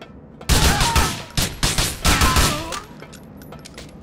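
A burst of rapid, loud gunfire in Grand Theft Auto 4 begins abruptly, firing in several quick clusters, then fades to quiet ambience near the end.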